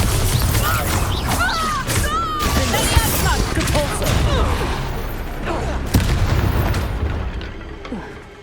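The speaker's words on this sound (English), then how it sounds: "Bombarda!" Bombarda blasting spells in Hogwarts Legacy combat, a dense run of booming impacts and crashes layered with shouting voices and magical whooshes, loud and continuous, with a sharp hit near the end.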